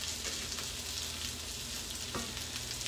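Sardines fry in a pan with a steady, close sizzle and crackle, continuous and fairly quiet, with occasional small pops and stirring.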